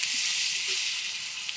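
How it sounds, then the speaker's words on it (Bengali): Bay leaves and chopped onion frying in hot oil in a pan, a steady bright sizzle with soft crackles, close and unbroken, with no talking. "প্রথমে দুটো তেজপাতা দিলাম, পেঁয়াজ কুচি, আর পেঁয়াজ কুচিটা একটু বেশি করে দিতে হবে।"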